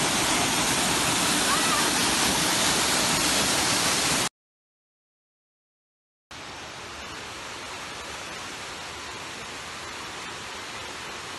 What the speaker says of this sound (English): There's so many nice waterfalls.